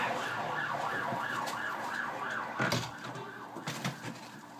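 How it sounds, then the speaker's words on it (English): An ambulance siren on a main road outside a window wails in regular rising-and-falling sweeps, moderately loud under traffic rumble, with a couple of knocks near the end. "we get the ambulance and fire engines going past quite a lot"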